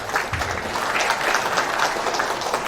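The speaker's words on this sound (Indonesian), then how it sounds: "Tepuk tangan buat semua." An audience at a Buah Batu Corps general assembly applauds, a dense, steady clapping from a crowd that holds at an even level from start to finish.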